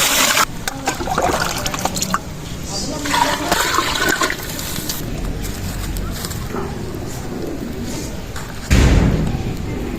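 Water gushing steadily from a large vessel into a big pot of gravy for chicken pulao. The pour is loud, close and rushing, with a few thumps and a heavier splash near the end.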